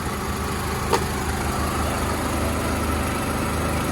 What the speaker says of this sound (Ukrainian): Під капотом у нас двохлітровий бензиновий двигун